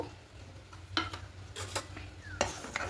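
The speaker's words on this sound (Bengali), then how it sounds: "এখানে দেব 2 চামচ মতো চিনি দেব" A spoon stirs sugar into slightly warmed liquid milk, giving a short run of close scraping swirls and light clinks against the container, with no voices.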